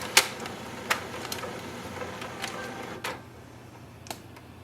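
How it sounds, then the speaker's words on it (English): An HP LaserJet Pro MFP 3101fdw printer scans over a low steady mechanical hum, with sharp clicks and ticks at irregular intervals and a softer tail as the run winds down. "You will see it will start to scan automatically"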